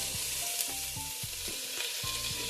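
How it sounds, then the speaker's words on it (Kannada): Chopped vegetables and peas fry in oil while being stirred for a vegetable pulao, a soft sizzle under rhythmic scraping and tapping of the spoon against the pan, with no talking. "ಈಗ ಸ್ವಲ್ಪ ಎಣ್ಣೆಲಿ ಚೆನ್ನಾಗಿ ಫ್ರೈ ಆಗಬೇಕು"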